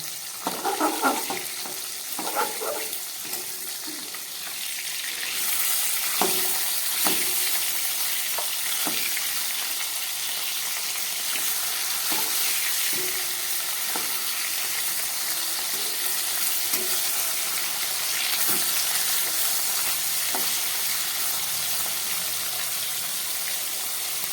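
Pieces of foloi fish fry gently on low heat, a continuous broad sizzle filling the whole span, dotted with occasional soft pops and light utensil taps, close and steady without any voices.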